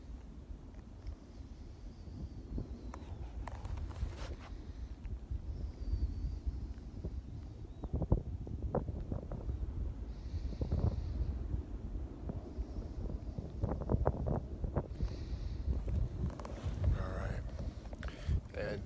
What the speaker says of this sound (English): that wind starts to come across at a pretty good rate right now